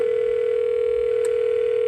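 Steady telephone dial tone on an extension of a 6 x 16 phone system, a continuous even hum heard alone and close, with a brief faint click partway through.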